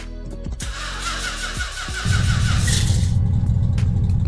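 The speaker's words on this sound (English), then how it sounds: "There's the rev. Still has that classic 1970s V8." A classic 1970s V8 Dodge Charger in the Roblox game SWFL cranks over, catches and starts, then settles into a loud, steady, rumbling rev close up, with no talking.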